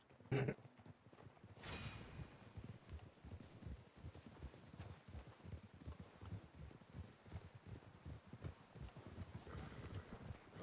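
Horse hooves clip-clop steadily at a walking pace in Red Dead Redemption 2, moderately close, with a faint ambient backdrop and no talking.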